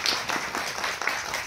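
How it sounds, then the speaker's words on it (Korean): At a special screening Q&A, the audience welcomes the film's director and cast with a short burst of clapping, dense and fairly loud, filling the room for under two seconds. "큰 박수를 맞이하겠습니다"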